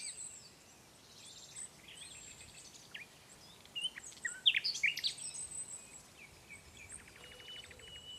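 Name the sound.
birds calling at abandoned chateau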